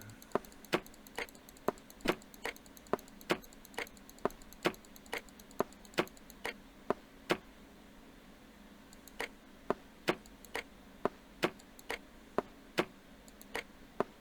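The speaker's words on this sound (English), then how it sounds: "I heard the sounds of the lock moving." In the video game Broken Sword: Shadow of the Templars, a lock mechanism ticks in a steady series of sharp, evenly spaced clicks that continue for over ten seconds with a brief gap in the middle, heard alone and fairly quiet.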